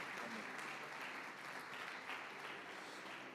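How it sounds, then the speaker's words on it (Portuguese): Church congregation at a celebration service clapping, a dense, even roar of many hands that holds steady from start to finish with no talk over it. "Aplauda ao Senhor"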